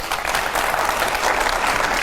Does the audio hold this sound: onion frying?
no